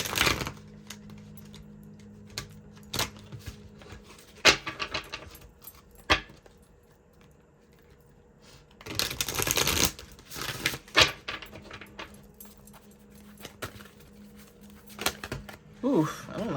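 Bursts of crisp riffling and snapping, like cards being shuffled, come in uneven spurts between quieter stretches, with a few louder clacks.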